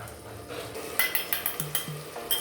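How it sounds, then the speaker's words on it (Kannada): Coriander and chilli powder frying in oil for tomato bath, a few sharp clinks and scrapes of a spoon against the pan over a faint background sizzle, close by. "ಇವನ್ನೆಲ್ಲ ಎಣ್ಣೆಯಲ್ಲಿ ಚೆನ್ನಾಗಿ ಫ್ರೈ ಮಾಡ್ಕೊಳ್ಳಿ."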